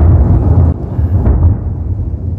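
Thunder cracks during a mountain trek on Devchuli in Nawalpur, Nepal. It is a loud, close, deep rumble that rolls on for the whole stretch with no talking.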